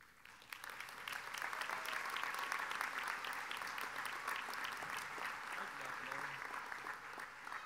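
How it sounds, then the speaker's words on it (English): Steady crowd applause at a Central Ohio Technical College spring commencement, greeting a graduating electrical engineering technology student as he comes on stage; the clapping stays dense and even throughout. "his family is so excited to clap for him"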